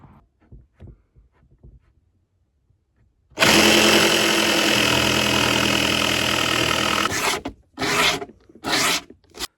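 A saw cuts off a wavy piece of plywood: after quiet handling noises, a loud, steady buzzing cut runs for about four seconds, followed by three shorter bursts of cutting.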